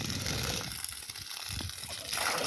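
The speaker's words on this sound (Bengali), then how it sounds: "পানি সব বাইরে চলে যাচ্ছে" Water gushing out of a newly fitted pipe running from a pump, a steady rushing, splashing flow heard close and continuously, with no talking.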